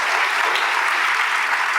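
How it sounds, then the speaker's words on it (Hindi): Dense, continuous applause from a crowd of students fills a hall during an exam-guidance discussion event, loud and even throughout the short burst. "अपने आप के लिए ताली बजाएं"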